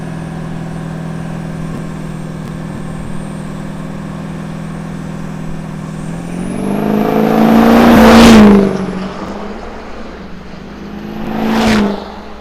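Drag-racing pickups, a GMC Canyon and a Duramax, idle on the line before engines roar up in a loud launch, then a second surge follows a few seconds later.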